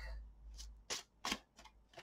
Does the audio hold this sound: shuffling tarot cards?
yes